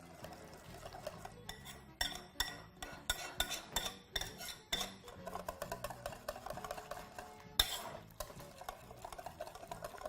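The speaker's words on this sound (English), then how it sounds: "Proceed to mix through your ingredients" A utensil stirs oats, raisins and soy pancake batter in a bowl, with repeated quiet scraping and clinking strokes in an irregular rhythm, close and soft.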